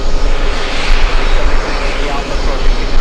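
Airbus A330 jet engines roar loud and steady at JFK airport on a hot day, a broad continuous rumble with a faint voice underneath.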